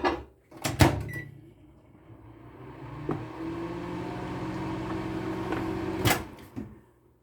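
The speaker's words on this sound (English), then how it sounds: "I'm going to stick this back in the microwave for about 10 seconds." A running microwave oven drones with a steady low hum for several seconds between clunks and a sharp beep, heard close with no talking.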